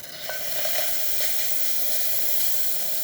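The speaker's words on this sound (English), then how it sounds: "And so we're just going to quickly test steam." A La Pavoni espresso machine's steam wand hissing steadily and loudly up close, a continuous broadband rush with faint sputtering at the start.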